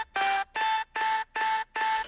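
Vocal chop sample processed with auto-tune and pitched higher, in a future bass production: five bright, evenly spaced synthetic vocal stabs with short gaps between them, loud and alone.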